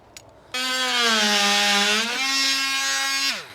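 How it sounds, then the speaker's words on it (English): A multi-tool's oscillating blade cuts into rotten hardwood window timber, a close buzzing whine that starts abruptly, dips slightly in pitch, then steadies before trailing off after about three seconds. "so I'm going to cut it here with my multi-tool"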